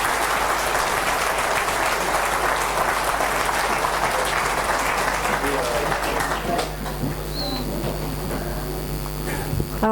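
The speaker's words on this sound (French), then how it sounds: "Et applaudissez-les" A crowd applauds loudly and continuously for several seconds, then the clapping fades out, leaving a low hum and some quiet background voices.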